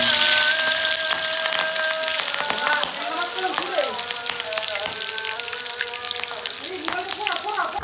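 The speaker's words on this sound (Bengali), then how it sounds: "মাছটা ভাজতে নিয়েছিলাম" Tengra fish frying in a pan, making a bright, continuous crackling sizzle with steady tonal sounds heard over it.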